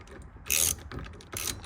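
A ratchet tightens the steering wheel nut on a 1999–2006 Chevrolet Tahoe or Silverado, with two short bursts of rapid metallic clicking separated by a pause, fairly close and moderately loud.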